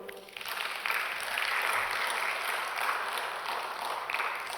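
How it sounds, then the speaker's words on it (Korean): Church congregation applauding during a Korean sermon, a dense, steady wash of many hands clapping at moderate distance, sustained for several seconds with no one speaking over it. "감사하신 분만 박수."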